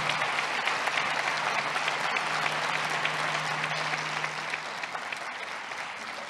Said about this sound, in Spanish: Más fuerte ese aplauso para Monseñor